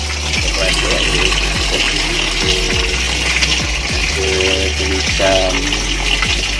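Water gushing into a Khind semi-automatic washing machine tub for a thick blanket, a loud continuous rushing flow heard close throughout, with someone speaking over it.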